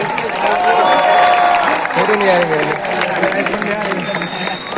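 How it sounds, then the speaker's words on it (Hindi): An audience applauds during a felicitation at an IIT Kharagpur interaction, with steady dense clapping from a crowd for several seconds while a voice speaks over it close by. "अरे जोर से तालियां मार दो."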